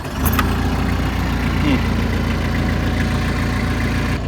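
A TYM 5835R tractor engine, started without the clutch while in neutral, runs at a steady low idle throughout, with a brief starter-like burst near the start and a constant rumble.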